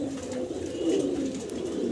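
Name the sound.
pigeon cooing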